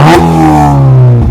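A tuned car engine with stainless steel headers, a full exhaust and a Stage 2 remap revs loudly up close, its throaty tone rising steadily and then dropping off at the end.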